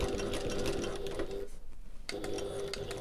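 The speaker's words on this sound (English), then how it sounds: "lift my presser foot and pivot, and then I'm going to sew up to the top of the pocket" Sewing machine stitching fabric for a backpack pocket, a steady close mechanical whir that briefly stops, then starts again.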